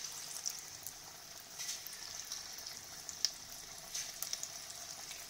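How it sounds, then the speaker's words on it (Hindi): Moong dal fritters sizzling steadily in hot oil, a soft even frying hiss at low level with faint occasional pops. "अब हम उंगली की सहायता से इनको डालेंगे, दूर दूर डालेंगे, जिससे ये चिपके नहीं"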